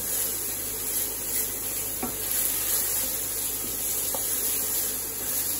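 Garlic and onion sauté in a hot pan, a steady bright sizzle and hiss that stays constant throughout, with a couple of faint knocks from stirring and no voices.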